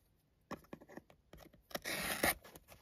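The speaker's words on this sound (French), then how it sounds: "On va couper le scotch." A few quiet taps and clicks, then a short rasping tear as packing tape is cut and pulled on a parcel, close by.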